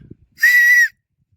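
A child gives one clear, steady high-pitched whistle of about half a second in a Rajasthan village, loud and close, after a brief faint murmur.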